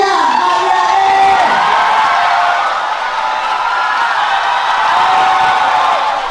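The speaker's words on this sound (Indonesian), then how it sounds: "tepuk tangan buat Rian" An audience at a stand-up comedy show cheers, whoops and claps for a comedian, a loud, sustained crowd roar without pause.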